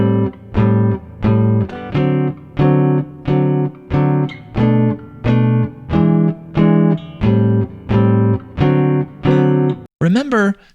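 Guitar comps a 3, dominant 6, 2, 5 turnaround in a jazz blues: a steady run of about a dozen evenly spaced, sustained chord strums, closing with a brief sliding flourish.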